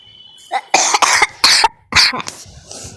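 Several sharp coughs in quick succession, close and loud, followed by a quieter throat-clearing rasp.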